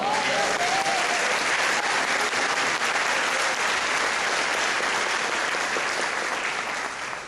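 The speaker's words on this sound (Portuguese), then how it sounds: "Aplauda o Senhor." A church congregation applauds the Lord in a dense, sustained wash of clapping that fills the space evenly and fades slightly at the end.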